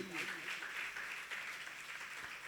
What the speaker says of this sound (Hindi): ऐसे महोदय के सम्मान में जोरदार तरीके से तालियों का अवदान होना चाहिए